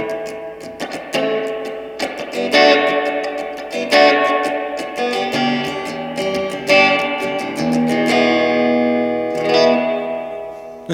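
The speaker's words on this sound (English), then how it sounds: "that's pretty lush for a spring reverb" Electric guitar played through a Peavey Blazer amp with an upgraded spring reverb, chords and single notes ringing out with a lush, splashy reverb tail over about eleven seconds, loud and close with no talking.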